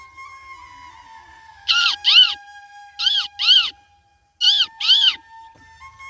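A man imitates a parrot's call with his voice in three pairs of sharp, shrill squawks separated by short pauses. The squawks are loud and close over a faint steady tone.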